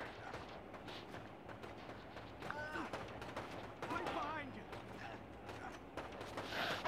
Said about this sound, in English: Crap, I'm getting shot at.